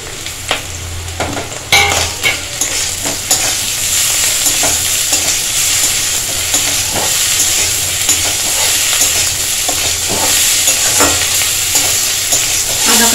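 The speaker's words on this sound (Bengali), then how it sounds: "আদা কাঁচা লঙ্কাটা ভাজা ভাজা হয়ে গেছে" Ginger and green chili paste fry in a hot pan with a strong, continuous sizzle, punctuated by scraping stirs and clinks of a spatula, close and loud throughout.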